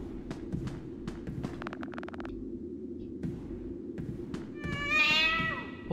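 A cat in the horror game Five Nights at Freddy's: Into the Pit gives one drawn-out meow near the end, after scattered soft clicks and steps over a low steady hum.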